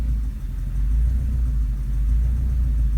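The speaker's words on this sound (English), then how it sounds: "Now let me just put some load on the engine by knocking it into gear." A Subaru EA82T turbo flat-four on a Megasquirt setup idles under load after being knocked into gear, a steady, close low rumble throughout, without talking.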